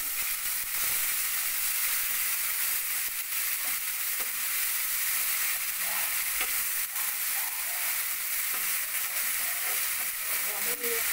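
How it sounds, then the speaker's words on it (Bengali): Grated onion and tomato frying in a pan for a Bengali prawn curry, giving a steady, close sizzle that holds for the whole stretch, with scattered small clinks and stirring noises and no talk. "এবার আমার সেই গ্রেট করে রাখা পেঁয়াজ এবং টমেটো সেটা আমি এর সঙ্গে"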